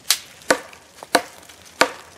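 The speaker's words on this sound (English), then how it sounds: "we're going to continue this chopping test here" A Seax knife strikes a dead, seasoned piece of oak four times at an uneven pace, each blow a sharp, close woody chop followed by a short pause.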